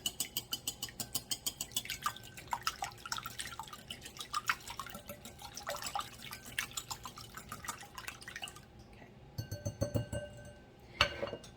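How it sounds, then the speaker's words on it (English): A whisk beats ingredients in a bowl for a carrot cake, giving a quick, steady run of light clinking taps against the bowl for about nine seconds, then a short pause and a few brighter strokes near the end. "use just a little bit of a whisk just to kind of beat them up"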